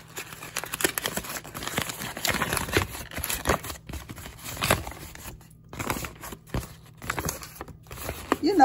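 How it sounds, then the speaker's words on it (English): Crumpled paper is opened back out by hand, with scattered crackles and soft tearing-like crinkles coming in bursts, close-up and moderately loud, without speech. "Now let me open this paper back up for you."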